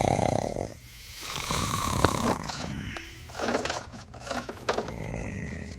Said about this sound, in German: Wie kann man nur so laut schnarchen?